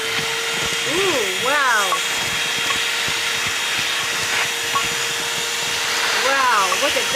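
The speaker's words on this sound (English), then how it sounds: "I am just so inspired right now to use my vacuum and clean it up." A vacuum cleaner sucks up food crumbs inside a car, a steady close drone running unbroken throughout while a voice exclaims briefly over it.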